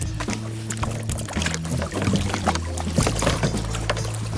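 Water pours and splashes out of a kayak lifted at one end by a paddler in the water, a sloshing, trickling stream with boat knocks and faint background voices.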